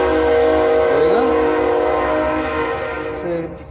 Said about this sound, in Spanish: ese tren trae buen claxon